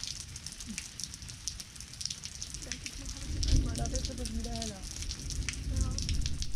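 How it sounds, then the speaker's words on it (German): Thunderstorm rain patters and crackles on surfaces on the Castilian high plateau near Burgos, a steady close wash of drops with a person talking over it. "jetzt zieht hier so ein Unwetter über uns hinweg"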